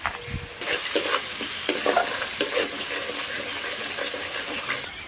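Kashmiri chilli powder masala being sautéed and stirred in a pan, with a steady sizzle under repeated scraping and stirring strokes close by, no voices.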